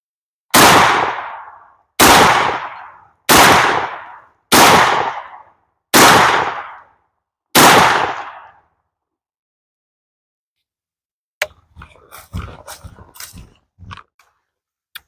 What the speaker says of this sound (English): We're going to find out with a full load, 7-in-1, on our Stoeger M3000 tactical shotgun.